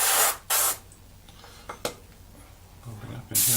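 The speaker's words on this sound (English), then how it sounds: "we're literally just spraying this on" An airbrush sprays paint onto a primed model Spitfire aircraft in short hissing bursts, loud and close, with quieter gaps and small clicks between passes.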